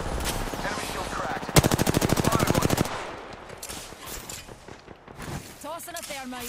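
Apex Legends gunfire cracks in a rapid, evenly spaced automatic burst of about a second and a half, loud and close, with muffled shots and game noise around it.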